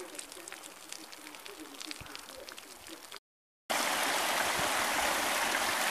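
A mountain stream flows by gravity down toward a maple sugar shack at season's end, a steady broadband rush with faint outdoor sounds, briefly cutting out before returning louder and brighter.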